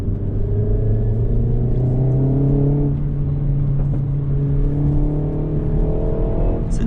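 A Renault Megane RS Trophy 300 hums with a deep, steady engine and exhaust drone while driving, pitch shifting slightly as it eases off the pedal, loud and close.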